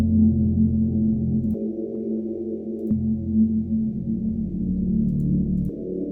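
Low, sustained pitched-up synth pad chords shift in a few distinct steps, filtered and dark with a soft hum, playing alone without speech.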